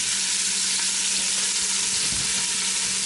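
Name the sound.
pork chops searing in a pan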